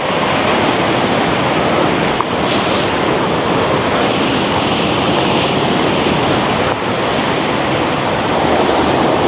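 Water pours steadily from a hidden waterfall in the mountains, a loud, continuous broadband rush that fills the whole stretch with no pauses and no voices.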